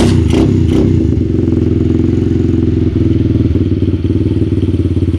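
A small dirt bike engine rattles through a cold start after a few opening clanks, then idles steadily and loudly up close with a fast, choppy putter.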